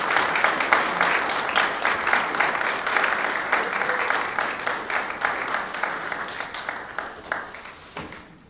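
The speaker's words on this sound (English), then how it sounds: "One more round of applause for them." A church congregation gives a sustained round of applause for the teachers at a Sunday worship service, a dense wash of clapping that stays loud, then thins and fades toward the end.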